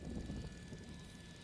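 A video-game helicopter approaches with a low, steady rotor and engine drone, quiet and continuous through the short moment.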